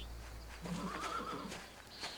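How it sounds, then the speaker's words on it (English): A horse in the video game Pentiment gives a single close whinny, rising and falling over about a second, with soft hoof clops around it. "Mischlaus, tend to the horses and the baggage"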